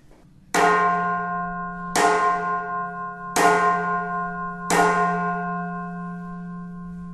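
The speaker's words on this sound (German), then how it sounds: "Dat zijn vreugdelijke klokken." A church bell in Groningen, Netherlands, strikes four times at even intervals, each loud, resonant toll ringing out and slowly fading before the next.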